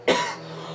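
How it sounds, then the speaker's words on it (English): A single sharp cough close to the microphone, followed by a brief fading rasp and low background hum. "I have to cough."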